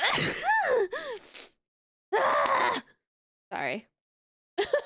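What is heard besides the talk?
sneeze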